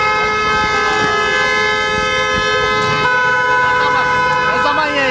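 At the Kapıkule border crossing, car horns blare continuously in protest, several overlapping sustained tones forming a loud, steady din, with voices talking over it.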